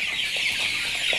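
Chickens cluck softly and steadily throughout a commercial poultry pen holding about 1,200 birds, with a constant bright hiss of the flock and occasional individual clucks standing out.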